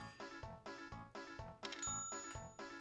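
A bell in the Harvest Moon: Grand Bazaar video game rings rapidly and repeatedly, about seven bright dings in steady rhythm, with a higher chime layered in near the end, clear and alone.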